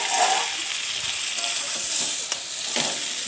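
Chopped jackfruit frying in a pan for prawn curry, a steady bright sizzle and hiss with soft stirring scrapes, close and continuous.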